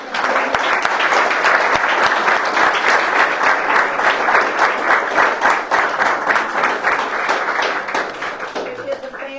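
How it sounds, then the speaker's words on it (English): Steady applause from an audience at a council meeting, honoring family members, with dense clapping sustained for several seconds before fading. "let's have a round of applause"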